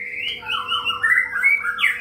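Pet songbirds kept overhead, long-tailed white-rumped shamas among them, chirp and warble in quick, bright overlapping phrases close by, a busy continuous run of calls with no talking.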